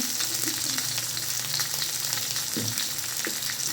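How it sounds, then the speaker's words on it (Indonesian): Ground garlic sautéing in oil for a beef soup dish, giving a loud, continuous close-up sizzle and hiss with a few faint stirring clinks beneath it. "Ini kita tumis hingga harum ya"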